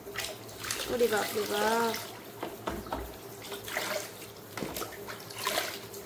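Water is poured over a doll during a pretend bath, trickling and splashing in uneven bursts while a voice exclaims over it.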